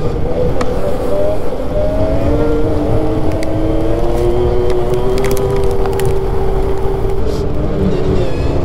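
A snowmobile climbs uphill at elevation on a snowy trail, its engine holding a loud, steady, close drone that wavers slightly in pitch throughout.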